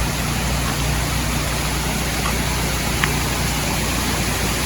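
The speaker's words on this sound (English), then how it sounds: "There's a creek here." A creek flows beside an old bridge along a mountain railroad track, its steady broadband rush filling the scene evenly and loudly with no breaks.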